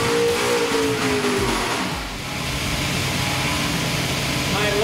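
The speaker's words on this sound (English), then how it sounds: "the boys will run it up again and see if we can find a bit more horsepower out of the engine" A Ford Windsor V8 with CNC alloy cylinder heads runs on a dyno after a carburettor jet change, a loud continuous engine roar with a falling rev tone early on, then steady running.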